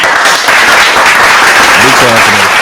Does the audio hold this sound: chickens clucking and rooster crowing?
no